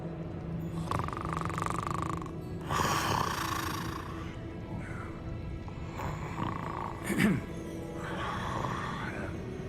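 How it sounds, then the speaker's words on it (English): A sleeping person snoring, with rough, rasping breaths that swell into louder snorts every few seconds over a low background rumble. "he was snoring his ass off"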